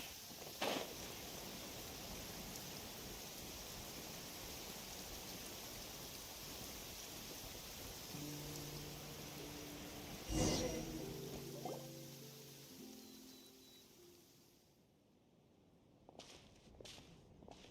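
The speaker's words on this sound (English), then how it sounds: "It's raining again?" Rain falling in the video game Genshin Impact, a steady broadband hiss throughout with a few footsteps and a brief chime-like sound partway, fading quieter near the end, no talk.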